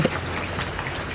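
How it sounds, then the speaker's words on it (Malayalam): Steady rain falls and patters on surfaces close by, a dense, even hiss with scattered drops and no voices. "ഓ മഴ കുറവുണ്ട്."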